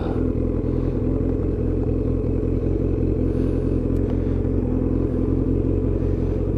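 A Kawasaki Ninja motorcycle rides past at a steady, loud engine drone, continuous low rumble throughout with no talking.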